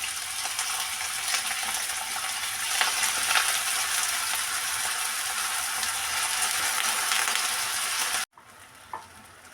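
Green chilies and potatoes frying in hot oil in a pan for sabudana khichdi, a loud steady sizzle with faint stirring scrapes, cut off abruptly near the end by a brief quiet gap.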